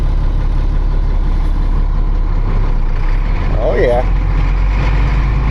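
A wrecker tow truck's engine pulls away in first gear on a snowy day, a steady loud low rumble throughout, with a brief man's remark partway through.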